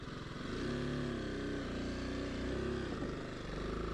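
A BMW G 310 GS single-cylinder motorcycle rides at a crawl, its engine puttering steadily at low revs with slight rises and dips in pitch as the throttle and clutch are feathered, close and continuous.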